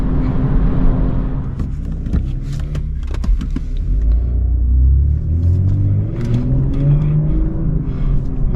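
A car accelerates hard on the road during a cars and coffee run with a BMW M340i and Audis, its engine rumbling loudly and rising in pitch through revs over several seconds, with no one talking.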